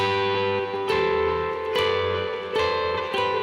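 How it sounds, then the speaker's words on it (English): A distorted electric guitar plays a short run of two-note harmonies, several strums in a steady sequence, ringing and sustained, with no voices. "So these are what we call thirds."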